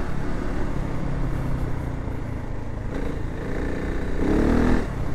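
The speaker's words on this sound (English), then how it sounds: "It's crazy to think that they take this much power from that single cylinder engine." KTM 690 Enduro R single-cylinder motorcycle ridden off-road on gravel, a steady loud engine drone with wind rush throughout and a brief rise in throttle near the end, no voices.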